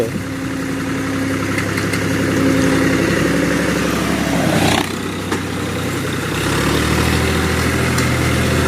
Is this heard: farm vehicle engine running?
yes